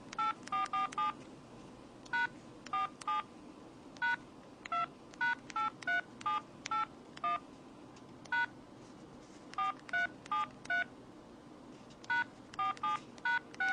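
Keypad tones from a mobile phone while text is entered in T9 Word mode, short electronic beeps in quick bursts and clusters with brief gaps, clear and close over a faint background hum.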